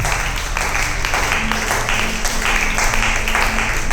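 A church congregation applauds the Lord, a dense wash of steady clapping from many hands that continues evenly throughout at close range, with faint voices mixed underneath.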